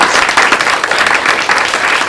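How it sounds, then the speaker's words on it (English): A large studio audience gathered for an annual cruise event breaks into dense, raucous applause, a continuous close wash of many hands clapping with no voices on top. "That raucous applause that you're hearing is the huge studio audience"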